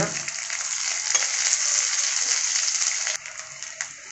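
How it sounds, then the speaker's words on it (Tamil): Garlic and lentils frying in hot oil in a pan give a steady, close crackling sizzle that stays loud and even, with a stir near the end. "பருப்பு சேர்த்து அதையும் வறுத்தெடுத்துக்கலாம் பூண்டு சேர்த்துக்கோங்க"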